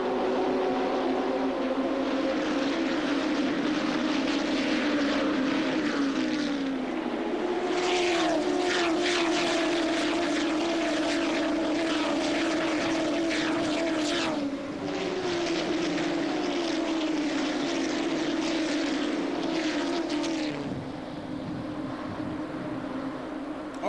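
NASCAR Mexico stock cars at the Aguascalientes race start under green, a dense roar of engines revving and droning continuously, loud and sustained with shifting pitch as the pack pulls away, no voices.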